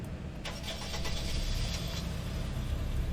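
A big SUV in a video game starts up, with a few sharp clicks and a crank, then settles into a steady engine hum that grows slightly louder and holds at an idle.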